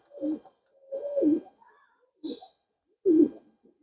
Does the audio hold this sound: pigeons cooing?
yes